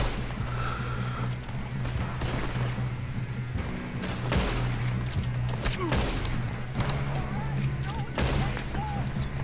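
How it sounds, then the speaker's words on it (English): Gunfire in a firefight in Red Dead Redemption 2: scattered loud gunshots crack at irregular intervals over a steady low rumble, while horse sounds and a talking voice come in at times. "So we got ourselves a bit of a firefight here"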